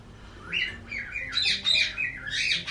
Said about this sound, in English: the birds ultimately were just making way too much noise for me to keep on going